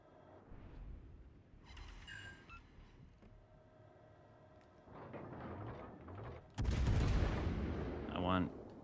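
Warship main battery salvos in World of Warships: Legends, distant booms and mechanical clanks followed by a heavy, loud blast with rumbling tail near the end.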